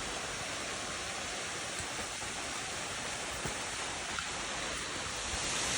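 River and waterfall at Nant y Ffrith near Bwlchgwyn, Wrexham, in full flow: a steady, dense broadband rush of water, constant and moderately loud throughout, with no voices and only a few faint knocks.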